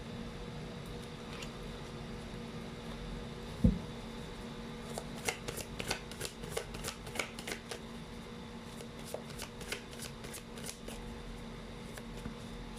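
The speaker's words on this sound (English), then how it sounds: "Let's pull up more cards." Tarot cards being shuffled, a close run of crisp riffling flicks and snaps in quick succession, preceded by a soft tap, against a faint steady room hum.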